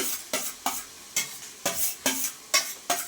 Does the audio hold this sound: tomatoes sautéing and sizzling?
yes